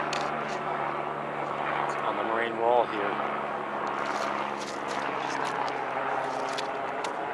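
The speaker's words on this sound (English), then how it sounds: "Helicopters are quite intrusive to an environment like this" A helicopter drones steadily in the background on a mountain hike to Ball Hut, a low constant engine hum running throughout while someone talks over it.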